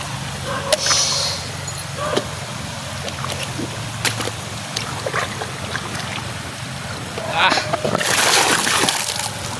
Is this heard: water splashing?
yes